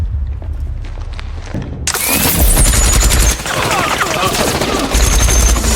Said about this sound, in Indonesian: menggunakan senjata yang sudah dimodifikasi dengan jarak jauh, semua pasukan Maya tak bisa berkutik sedikit pun